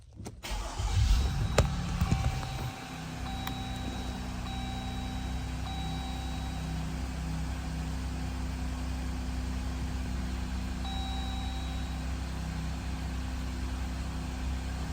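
A 2020 Jeep Gladiator engine cranks briefly and fires up nearby, then settles into a steady, even low idle that hums on without change for many seconds; no one speaks.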